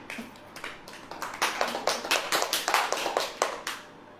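Congregation at a church sermon claps hands, starting as a few scattered claps and building into a clear rhythmic series of sharp, fairly close claps before tapering off.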